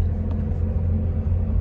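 A diesel Fuso truck cruises on a toll road on the Trans Sumatra route, heard as a steady low rumble of engine and road noise, close and continuous with no voices.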